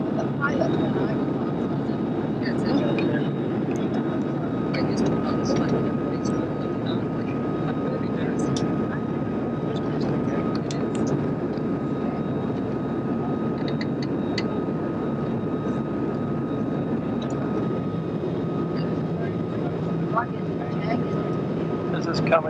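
Light aircraft in flight near Mount Cook, heard from the seat beside the pilot: a steady, loud engine and cabin drone runs through the whole stretch, with voices talking over it.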